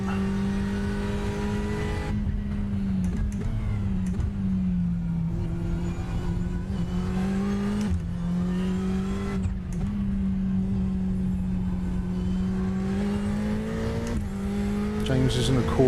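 Race car engines droning and shifting pitch around Sebring in the iRacing sim, with a Ferrari 488 GTE in a GTE endurance race; a steady, loud engine tone holds throughout with pitch sweeps as the car brakes and accelerates, and a voice talks over it.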